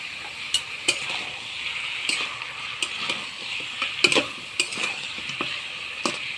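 Duck meat curry seasoned with salt and turmeric is stirred in a pan, with sharp, scattered spatula clicks and scrapes over a low background sizzle, heard up close.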